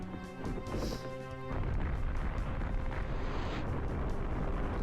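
Powder keg bombs go off in a video game as a loud, sustained crash and roar that swells after a short ringing lead-in and fills the rest of the moment.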